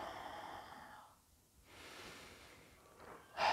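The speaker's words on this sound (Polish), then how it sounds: "Wdech i wydech." Slow, quiet breathing in and out during a beginner yoga session, a soft sustained exhale fading to near silence, then a faint inhale and a brief louder puff of breath at the end.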